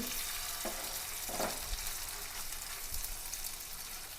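Four pieces of mackerel, rubbed with spices, frying in oil: a soft, steady sizzle with a couple of light knocks from the pan early on, fairly quiet and with no one speaking.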